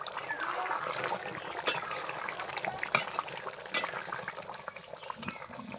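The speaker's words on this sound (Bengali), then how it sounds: "কি সুন্দর ফুটছে।" Potatoes boil in water in a pot with the lid lifted, a continuous bubbling and simmering wash with a few brief clicks and knocks, heard close and steady with no talking.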